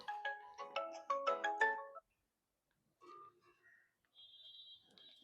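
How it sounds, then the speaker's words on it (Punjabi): A mobile phone rings indoors with a bright, fast melodic ringtone that plays loudly for about two seconds, followed by a few fainter electronic tones after a short pause. "ਫੋਨ ਖਰੇ ਕਿਦਾ ਆ ਗਿਆ"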